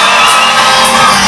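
Dense crowd of students at a college fest whooping and cheering steadily, loud and close, with shouts rising above a continuous roar.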